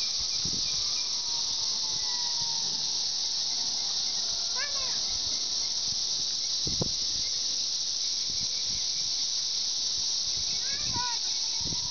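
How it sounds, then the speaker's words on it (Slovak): Cicadas on a tree keep up a steady, loud, high-pitched buzzing drone for the whole stretch, with a few faint chirps and brief knocks over it. "To sú cikády."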